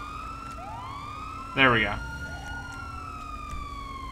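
A police car siren in GTA 5 wails in rising and falling sweeps while someone talks briefly over it, and a short burst of his voice stands out loudly in the middle.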